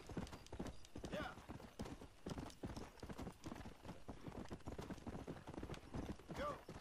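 Horse hooves clip-clopping in the video game Red Dead Redemption, a steady, rapid galloping rhythm that runs throughout, with a brief whinny and people talking over it.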